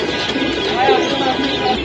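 Pigeons coo softly in a low, rolling murmur close by, mixed with a busy background of voices and ambient noise.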